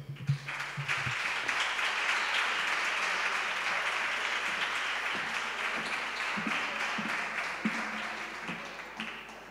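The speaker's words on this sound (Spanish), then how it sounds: "Recibámoslos con un aplauso." An audience gives sustained applause welcoming a flamenco singer and her guitarist onto the stage, a full, even wash of clapping that swells and then slowly tapers over several seconds.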